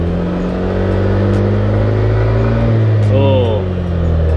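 Yamaha NMAX Neo scooter engine revving as the throttle is twisted toward the VVA point; a loud, close, steady engine hum rising in pitch, with someone talking over it.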